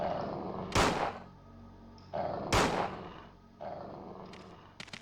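Three loud gunshots from the PlayStation game Resident Evil 2 ring out at roughly even intervals, each a sharp crack followed by a booming, fading tail, with a few faint clicks at the end.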